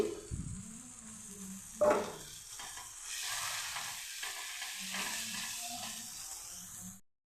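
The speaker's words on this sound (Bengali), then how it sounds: "মশলাটা আমার ভাজা হয়ে গেছে তেল ছাড়তে শুরু করেছে" Ground spices fry in oil in a pan, first stirred with a few scraping knocks, then a steady close sizzle that runs for several seconds before cutting off.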